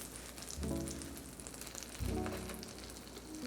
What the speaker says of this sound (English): A little olive oil and butter. I'm gonna toast my bread